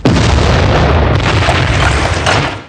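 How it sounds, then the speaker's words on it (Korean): A huge culverin cannon fires on a monastery during a siege, a loud sustained booming blast that fills the whole moment, dense and rumbling with no voices. "이제 아주 거대한 컬버린 대포까지 동원합니다."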